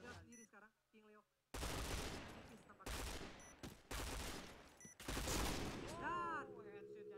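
Bursts of rapid gunfire from a Free Fire esports match, several loud sustained volleys with short gaps between them, mixed with game effects and a voice at the start.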